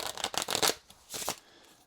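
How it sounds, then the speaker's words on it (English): A deck of playing cards gets a quick shuffle at close range: two crisp riffling bursts with fluttering card edges, separated by a short pause, and no other sound behind them. "give the cards a quick shuffle"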